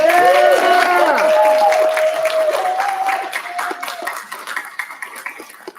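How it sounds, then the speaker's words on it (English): A convention panel crowd at Awesome Con 2021 claps and cheers loudly, with excited voices shouting over the applause before it gradually thins out. "Who thought that the best argued was Sonic?"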